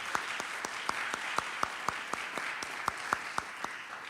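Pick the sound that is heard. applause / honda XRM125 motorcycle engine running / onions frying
applause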